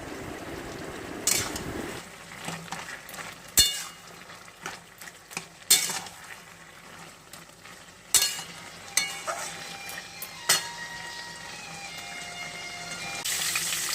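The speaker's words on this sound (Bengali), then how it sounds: "এই যে পটলগুলো ভাজছি, পটলগুলো ভেজে নিই তারপরে তরকারি করবো।" Pointed gourd pieces fry in a pan with a faint, steady sizzle, punctuated by sharp clinks and scrapes of a utensil against the metal and occasional louder knocks.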